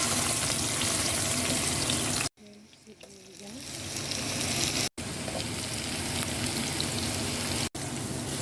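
Garlic sautéing in a frying pan with a steady crackling sizzle, close and fairly loud, broken by a few abrupt cuts, with a voice speaking now and then.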